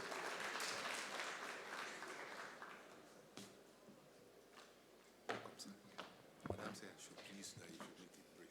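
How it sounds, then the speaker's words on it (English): Applause from an audience at a Nigerian diaspora investment summit, a steady wash of clapping that fades after a few seconds, followed by a few scattered sharp sounds under quiet talk. "A round of applause, please."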